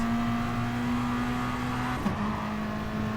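Race car engine in the GT Sport video game holds a steady high drone through a fast sweeping left-hander onto the back straight, with a brief pitch dip near the middle before the note settles again.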